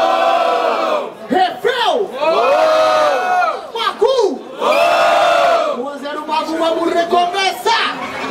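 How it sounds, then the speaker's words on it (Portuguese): Crowd at a freestyle rap battle in Barueri, São Paulo, cheering and shouting loudly in repeated bursts, with voices rising and falling in waves and chants layered over one another throughout. "Barulho pra cima do Magu!"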